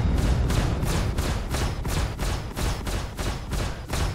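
Rapid, evenly spaced bursts of energy-weapon fire from an Anvil Gladiator, a sturdy short-range escort fighter in a space video game, pulse about twice a second for the whole stretch over a loud, dense rumble.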